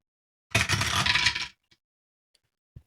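Dice for an APBA football board game tumble onto a tabletop in one brief, close rattling burst of clicks, followed by a couple of faint ticks as they settle.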